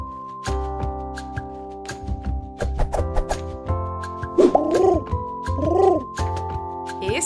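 A pigeon coos in a short series of soft, low, rolling calls, fairly close and clear over a steady musical backing in a children's animal-sounds song.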